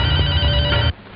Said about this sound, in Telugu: Okay Dilip, phone for you.